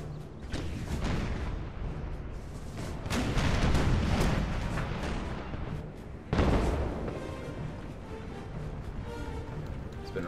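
Artillery fire in an American Civil War video game, deep booming cannon blasts rolling over one another, with a loud fresh volley partway through and a rumbling tail.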